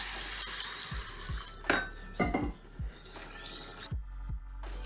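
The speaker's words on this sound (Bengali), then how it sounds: "সাবুটা ভালো করে ধুয়ে নিয়েছি।" Sago pearls are washed in water in a bowl, producing a series of close, irregular sloshing and patting sounds with light knocks against the container, separated by brief quiet gaps.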